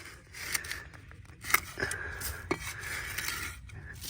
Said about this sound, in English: I'm just going to barely go, like kind of like scraping the dirt off like this.